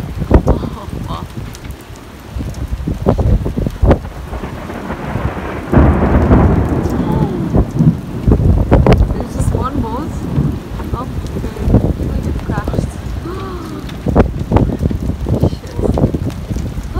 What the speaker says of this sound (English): we're counting the lightning right now, whether it's getting closer to us or not